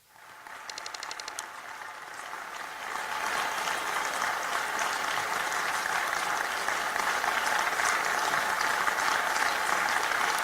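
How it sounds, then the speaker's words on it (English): Students at a Mike Pence address applaud in a large room, a dense steady wash of many hands clapping that swells and continues throughout, with faint crowd murmur beneath. "Most students are clapping."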